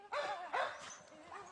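Pit bulls at a Finnish dog-fighting kennel of about forty dogs bark and yelp in overlapping bursts, moderately distant and reverberant, with a continuous chorus of yips behind.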